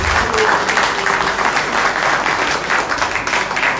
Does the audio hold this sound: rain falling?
no